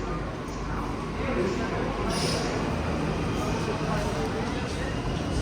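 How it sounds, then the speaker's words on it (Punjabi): A metro train rumbles steadily nearby at an underground station with a dense, low roar, and voices can be heard talking over the noise. "ਆ ਇੱਧਰ ਲੋ ਆਉਗੀ ਆਪਣੀ ਟ੍ਰੇਨ"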